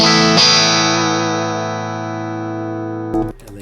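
An electric guitar played through a Fender amp rings out with a single sustained chord that slowly decays, then is cut off by a brief scratchy strum near the end.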